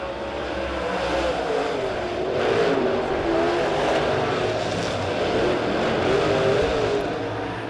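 Late model race cars roar around Springfield Raceway during a Turkey Bowl heat race, a steady, loud blend of engines at full throttle from a distance, with no talking heard.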